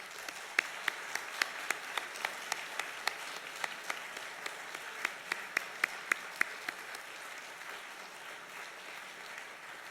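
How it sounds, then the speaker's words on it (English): A synagogue congregation at a Kol Nidrei service applauds its members. Faint, distant clapping runs throughout, with sharper individual claps standing out near the start and middle. "acknowledge them with a hearty round of applause"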